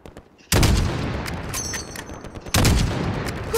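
Loud gunfire in the Call of Duty: Modern Warfare campaign, mission The Gas: a heavy burst opens at half a second, a sustained rattle follows, then a second strong volley lands near the end, close and dense throughout with no talk.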